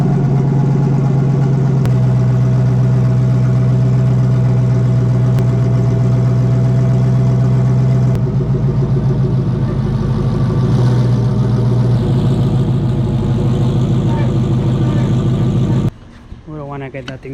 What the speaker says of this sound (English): So let's put the car on the ramps.